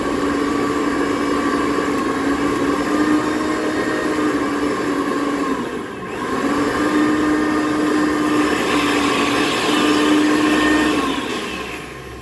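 A mixer grinder whirs steadily as it grinds mustard with water, a loud continuous motor drone with a brief dip midway before it spins back up and runs on.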